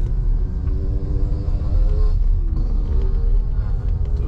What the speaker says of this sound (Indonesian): itu suara motor jauh lebih berkurang